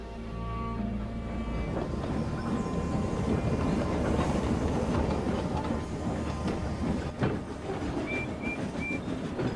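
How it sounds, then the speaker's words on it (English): A model train runs along rails into a station, a steady rumbling roll with faint rhythmic clatter of wheels at moderate distance, a brief high squeal near the end. "BoCo and his train were taken onto the station by Donald"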